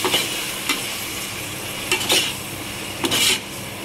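Curd being stirred into a vegetable biryani mixture, a steady soft scraping and sizzle with a few sharper spoon strokes against the pot, close and moderately loud, no talk.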